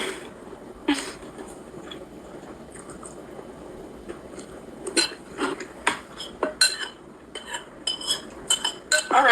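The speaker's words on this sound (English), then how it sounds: "Oh, the scraping of the bowl." Metal cutlery scrapes and clinks against a bowl during a meal, a run of sharp, irregular scratches and taps that grows busier toward the end, close and fairly loud, with no talking.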